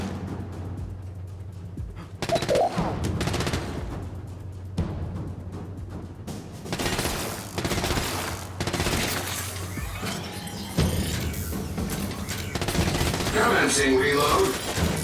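Gunfire in the Gears of War 5 video game, bursts of shots among game sounds and music, with a synthetic voice speaking over the mix.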